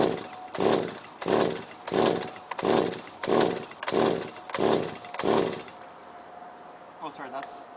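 A gas string trimmer is pull-started with about eight loud, evenly spaced cord pulls, each a rasping surge. The pulls are followed by a quieter, fainter stretch.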